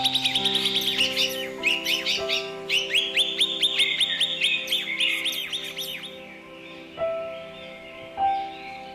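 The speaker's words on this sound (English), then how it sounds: "enjoy their harmonious chirping and songs they produce that calms our mind" Common mynas chirping and whistling in bright, varied bursts, some notes clear and tonal, close by, trailing off into a few scattered calls.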